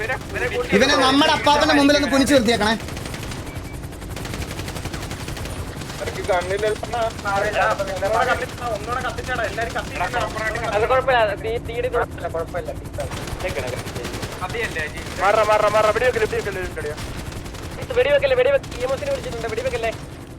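Bursts of rapid gunfire rattle in short volleys, mixed with mobile shooter game sound effects and people talking excitedly over them.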